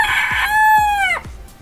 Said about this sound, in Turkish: Tavuğa bak. Tavuk musun kız sen?